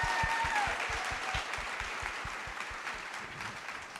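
Audience at a women's conference applauds steadily, dense clapping filling the room at moderate volume and slowly easing off, with no talk over it.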